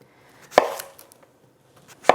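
Two sharp knife chops through squash on a cutting board, cut into half-inch slices, close and crisp with a quiet pause between them.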